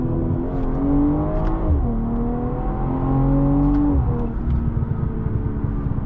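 A rear-wheel-drive 2023 BMW M340i accelerates hard, its engine note climbing through gears with shift dips, loud and close, with exhaust burbles and crackles breaking through.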